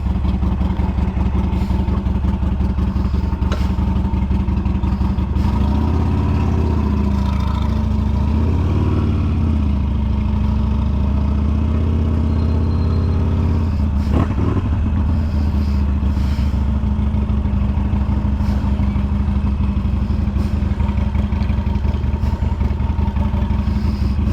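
Harley-Davidson motorcycle cruising on a road toward Deals Gap, a steady close engine drone with low rumble and wind buffeting throughout, swelling briefly in revs mid-ride.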